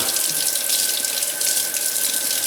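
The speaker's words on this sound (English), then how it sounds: "Rinse them off, get that brine off of them." Tap water runs steadily into a sink as raw brined chicken wings are rinsed, giving a continuous close hiss and splash throughout.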